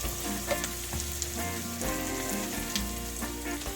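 Sweet potatoes for a Spanish tortilla frying in a pan, a close, continuous sizzle broken by repeated scraping and shuffling as the contents are stirred, with no talk over it.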